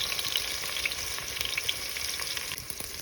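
Chopped onion and garlic hitting hot oil in a pan over a village wood-fired stove for a spice tempering, giving a steady, loud, dense sizzle and crackle throughout, with no voices.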